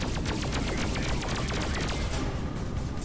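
Rapid repeated spaceship weapon shots in the space combat video game Freelancer fire in a dense, loud, continuous volley over a heavy background rumble.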